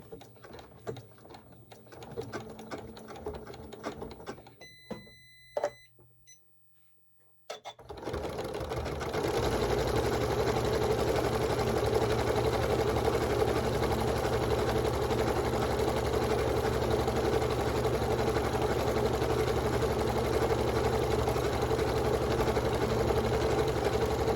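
A sewing machine quilting a squiggle stitch along a quilt border: a brief pause, then a steady, fast mechanical whirring that runs on without a break, close and clear.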